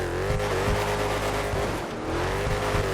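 Engine of a Chevy SS mud truck driving in GTA 5, a loud steady droning motor with a sustained tonal whine and brief thumps, continuous and close.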